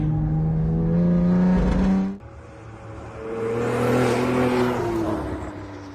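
A 625 WHP Cadillac ATS-V descends a mountain road, its engine droning loud and close, dropping off sharply mid-clip, then rising again into a smooth, climbing whir.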